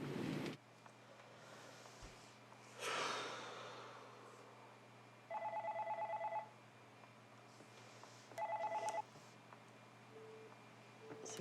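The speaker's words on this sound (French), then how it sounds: "C'est quoi ce téléphone là?" A telephone rings aboard a sailboat crossing the Arctic Ocean, two separate bursts of an electronic tone rising over a steady low hum, with breathy rustling near the start.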